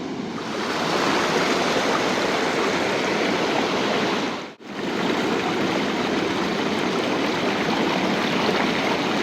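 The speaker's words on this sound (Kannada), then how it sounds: "ಈ ಹರಿಯ ನೀರು ನೋಡ್ತಾ ಇದ್ರೆ ತಲೆ ಸುದ್ದಂಗೆ ಆಗ್ತೈತೆ" River water pours over a check dam at Halluvagilu near Hassan in a constant, dense roaring rush, loud and close, broken only by one brief dip midway.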